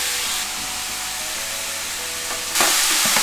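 Ground meat sizzles and hisses steadily in a hot pan, a bright continuous frying crackle that briefly grows louder near the end, with no talking.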